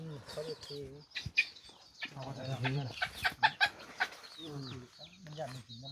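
Chickens cluck and call repeatedly outdoors in a Thai village setting, a series of close, rhythmic clucks mixed with people talking nearby.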